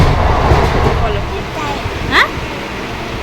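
Continuous rumble and rattle of a moving passenger train heard from inside the carriage, with voices talking over the steady rolling noise and a brief louder squeal near the end.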